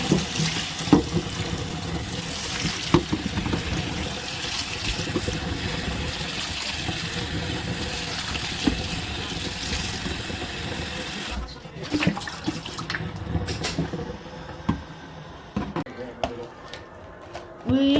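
Tap water runs steadily while an empty plastic bottle is washed for a homemade piggy bank, a loud continuous splash that stops partway through, then quieter handling noises follow, with a voice audible at times.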